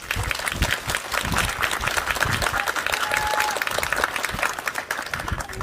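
A crowd at an outdoor campaign press event in Ulsan's Suam Market claps steadily and fairly loudly, a dense patter of many hands that continues unbroken for several seconds.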